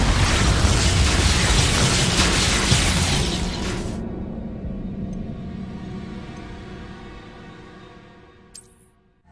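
A big Expulso blast spell detonates in Hogwarts Legacy, a loud broad explosive boom that slowly decays into a lingering rumble over several seconds, with a brief sharp burst near the end.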